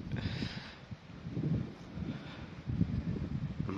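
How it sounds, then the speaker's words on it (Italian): Cold, gusty mountain wind buffets a tent and the microphone near Re di Castello, a steady low rumble with swelling gusts and faint rustling, no voices. "Un bel vento freddo"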